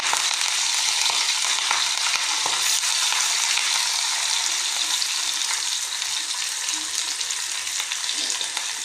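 Onion frying in hot oil in a pan, a loud, dense, steady sizzle and crackle close by, with faint stirring clinks underneath.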